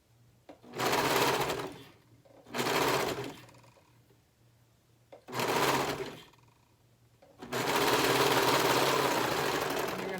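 A sewing machine stitches fabric onto a shirt bodice in three or four loud bursts of rapid running, separated by short pauses, with the last run continuing steadily to the end.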